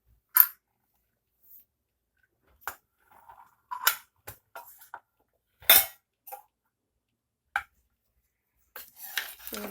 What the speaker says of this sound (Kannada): ಕುಕ್ಕರ್ ತಣ್ಣಗಾಗಿದೆ. ಈಗ ಲಿಡ್ ಓಪನ್ ಮಾಡ್ತಾ ಇದ್ದೀನಿ.